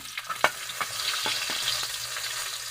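Garlic sizzles in hot oil in a wok, a steady close frying hiss broken by sharp clicks and scrapes of a spatula stirring.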